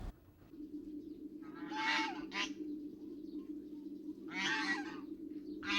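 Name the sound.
ducks in a tribal village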